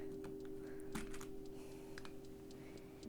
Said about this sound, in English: I'll demonstrate with just the escape key though.